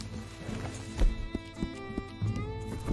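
Hooves clop irregularly on the ground with a short neigh from a horse in the video game Red Dead Redemption 2, close and moderately loud over a layer of game music.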